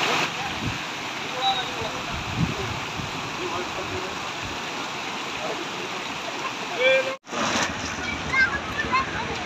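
The Kadi river rushes in a continuous broad roar of flowing water, with a short break near the end.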